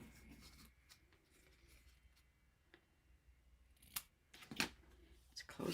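Scissors snipping through paper while making a fun fold gift card, a few short crisp cuts up close near the end after a quiet stretch.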